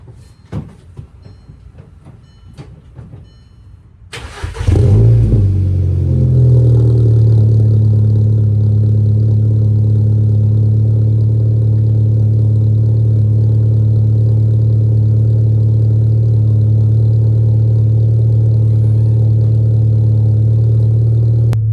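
A Volkswagen MK6 GTI engine cranks and fires after a few light clicks, then settles into a loud, steady, even idle close by for the remainder.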